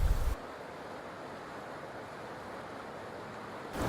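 Ocean surf washes steadily off Iliope Beach, Hawaii, a continuous broad roar of waves near the shore, with louder bursts at the start and the end.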